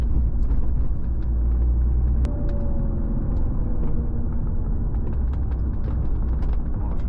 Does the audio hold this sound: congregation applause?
no